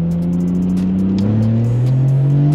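A supercharged 570bhp E46 BMW M3 spins its wheels, its engine roaring loud and steady with the pitch climbing throughout.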